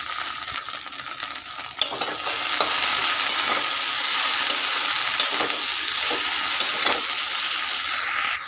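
Salt, turmeric, cumin powder, coriander powder and green chilies fry in a pan with a steady close sizzle, punctuated by several sharp metallic clinks and scrapes of a spoon stirring against the pan.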